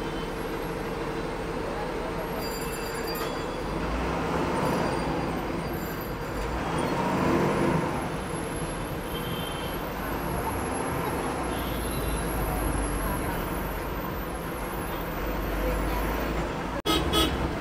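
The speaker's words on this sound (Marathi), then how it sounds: "गाडी निघाली आहे सुकरवाडीवरून" A BS6 sleeper ST bus runs along the road, its steady engine and road rumble continuing throughout with passing traffic and a horn toot, plus a brief sharp knock near the end.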